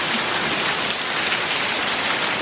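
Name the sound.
heavy rain during a storm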